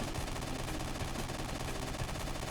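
A machine gun in the video game Mercenary Kings fires a dense, unbroken stream of rapid shots at steady loudness from start to finish.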